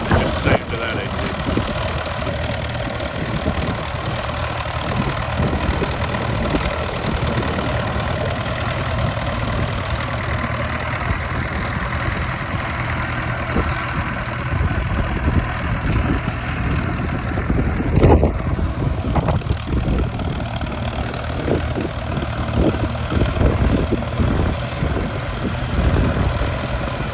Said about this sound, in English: what made me fall in love with a Fordson major in the first place, and just the sound of that engine